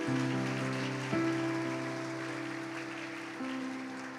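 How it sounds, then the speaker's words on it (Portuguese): Church congregation applauding during a worship service, a broad wash of clapping held over sustained keyboard chords that swells near the start and slowly thins out. "Aplauda Jesus Cristo de Nazaré nesse lugar."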